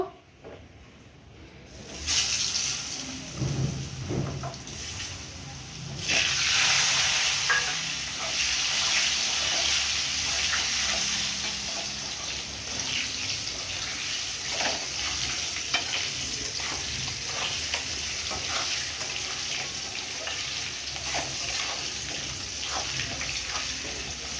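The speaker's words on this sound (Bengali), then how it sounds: "এই তেলে আলুটা ভেজে নেব।" Potatoes fry in oil left from cooking a large katla fish head, starting with a short quieter stretch before a steady, fairly loud sizzling hiss with scattered crackles and stirring.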